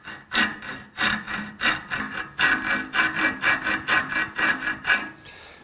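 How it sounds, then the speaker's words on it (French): Hand file rasping a flat spot onto a chrome metal tube, a steady series of about a dozen close, scratchy strokes in an even back-and-forth rhythm with no talking. "Et ce plat, je le fais à la lime"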